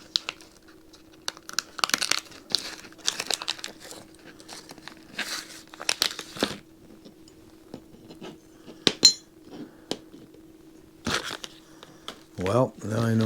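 Aluminum RC truck parts for a Tamiya Grand Hauler cab guard are unpacked from plastic bags, with intermittent crinkling and light metallic clinks close by. Someone talks between the handling sounds.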